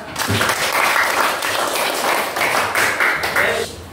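Children in a classroom clap their hands together for several seconds, a dense, steady burst of close applause that fades at the end.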